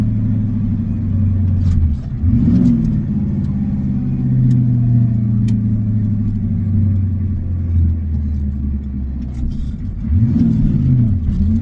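A 1987 Ford F-250 diesel truck crawls along in low first gear, its engine giving a loud, steady low rumble with rising revs near the start and again near the end.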